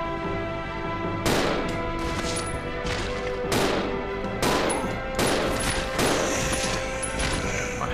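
Repeated gunfire in the video game Resident Evil 0 HD Remaster on PS4, several loud sharp shots spaced about a second apart over steady in-game music and ambience, each with a quick echoing decay.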